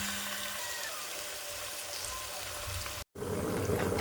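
Pieces of mutton rib for kuyrdak fry in hot oil in a cauldron, giving a soft, steady sizzle and crackle that cuts out briefly near the end and then returns a little louder.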